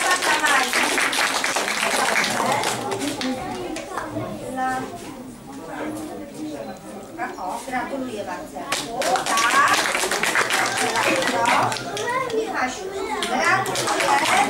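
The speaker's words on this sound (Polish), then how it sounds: "Brawa dla Lenki." Applause and cheering for a young girl at a preschool initiation ceremony, with a steady crowd of clapping hands mixed with children's chatter and adult voices throughout, fairly loud and close.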